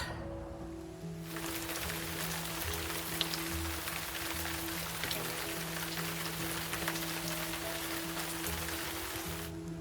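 Steady rain on a cycling trip along the Nysa–Odra route, a dense close hiss of drops hitting surfaces that starts after a second and continues evenly, with a low hum underneath.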